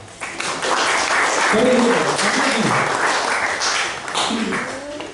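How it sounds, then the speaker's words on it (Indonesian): A church congregation at a Sunday Baptist service bursts into loud, sustained applause for a few seconds while a voice carries over the clapping. "boleh tepuk tangan"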